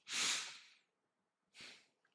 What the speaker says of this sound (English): More sniffs.